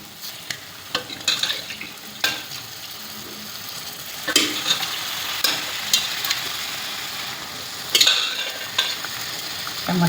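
Steamed chicken for spicy savji chicken fries in hot oil with a constant sizzle, while a spoon scrapes and knocks against the pan in irregular bursts as it is stirred.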